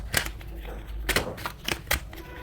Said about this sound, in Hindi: चलिए और कार्ड्स निकालते हैं यहाँ पे आपके लिए।